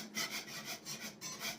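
Steamed wallpaper scraped off a plaster wall with a scraper: repeated rough rasping strokes in a steady back-and-forth rhythm, close and moderately loud, with no talk.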